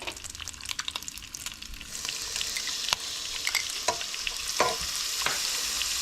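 Butter frying in a pan with onions for a no-egg carbonara, a steady bright sizzle that swells louder partway through, with occasional sharp pops and spatters close by.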